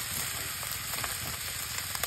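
Milkfish sisig being stirred in a hot pan, with a steady loud sizzle of frying and light scraping clicks from the utensil throughout.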